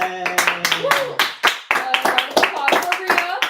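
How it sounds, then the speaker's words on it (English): A small group claps in celebration at the end of a twelve-hour podcast marathon, with sharp, uneven hand claps mixed with cheering voices and talk, close and fairly loud throughout. "Round of applause for Rhea."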